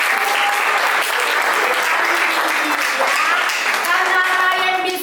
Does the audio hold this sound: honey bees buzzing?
no